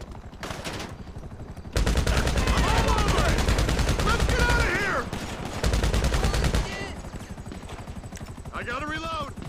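Sustained rapid gunfire from a GTA video game shootout, loud and nearly continuous like machine-gun bursts, with people talking excitedly over it.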